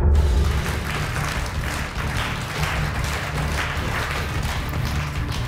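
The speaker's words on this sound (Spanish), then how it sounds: "Te aplauden" Applause from a studio audience on a Spanish-language talk show, a dense steady patter of many hands clapping at moderate volume, continuing evenly without voices.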